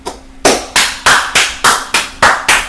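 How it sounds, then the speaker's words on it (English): A football team in a College Football 26 locker room claps together in tight unison: eight loud, evenly spaced claps, close and alone with no voices. "Hey, let's clap it up, boys."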